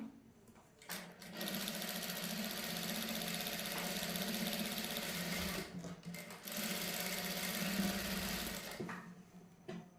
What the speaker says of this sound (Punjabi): ਹੁਣ ਦੂਸਰੀ ਬਾਂਹ ਤੇ ਵੀ ਉਸੇ ਤਰ੍ਹਾਂ ਸਿਲਾਈ ਲਾ ਲੈਣੀ ਆਪਾਂ